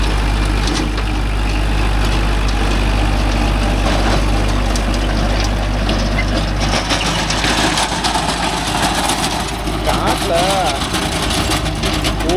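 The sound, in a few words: Kubota MU4501 45hp tractor running with rotavator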